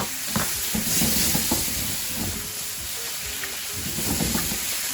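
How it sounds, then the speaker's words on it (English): Tomatoes tipped into a sizzling sauce for imam bayaldi, a loud, steady hiss of frying with irregular clattering stirs and scrapes up close, no voices. "Now coming back to the sauce, we add the tomatoes finally."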